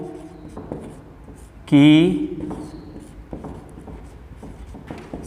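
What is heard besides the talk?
teacher writing numbers on a board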